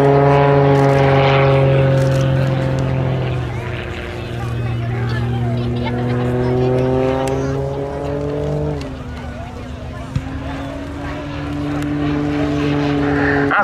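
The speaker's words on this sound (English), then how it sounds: "this muscle biplane very highly modified indeed" A highly modified muscle biplane's engine roars during an aerobatic pull-up at an air show, a loud sustained drone that shifts pitch as the plane climbs, with a commentator speaking over it.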